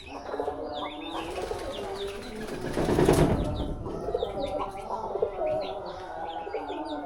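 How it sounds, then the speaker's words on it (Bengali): Pigeons kept alongside chickens at a rural homestead coo steadily and close by, with scattered bird chirps and a brief swell of wing flapping midway through. "তো আমাদের কবুতর হলো 6 জোড়া,"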